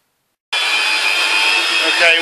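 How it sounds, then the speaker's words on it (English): An industrial power lifting vacuum cleaner runs on a dirty carpet, starting abruptly after a half-second of silence and holding a loud, steady whine with a slight shift in pitch near the end, with no talking. "after a good vac, the industrial power lifting vacuum cleaner"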